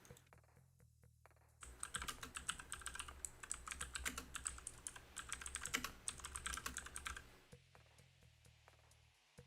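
Fast typing on a computer keyboard, a quiet run of clicking keystrokes lasting several seconds in an otherwise still room, with no one speaking.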